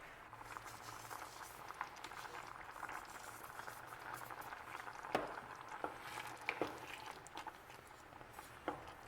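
Spring vegetable risotto rice simmering in a pot near the end of cooking, a faint, steady bubbling with scattered soft pops and small clicks, no voices.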